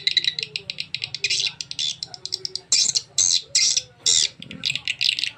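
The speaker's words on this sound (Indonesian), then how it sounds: "suara birahi walet mudanya" Young swiftlet mating calls played from a sound recording: rapid, dense chittering trills and sharp squawking bursts, loud and close, in quick repeated pulses with brief gaps.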